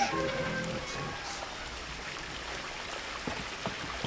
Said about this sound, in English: this little fucking waterfall is so neat looking